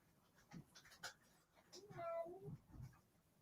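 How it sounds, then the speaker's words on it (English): A single short, faint meow rises and falls in a quiet room, surrounded by soft breathy sounds and light rustling. "Oh, did you hear that meow?"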